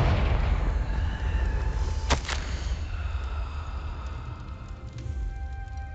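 In Hogwarts Legacy, a Confringo fire spell goes off as two sharp, loud blasts in quick succession, set against a steady roaring rumble with faint game music beneath.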